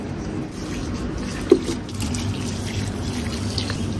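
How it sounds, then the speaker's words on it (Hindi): Water poured onto wilted plants makes a steady, continuous trickling splash at close range for the whole stretch, with one brief knock partway through and no voices. "पानी जो है वो सिंपी ही डालती है, तो हम सोच रहे हैं अभी डाल देते हैं।"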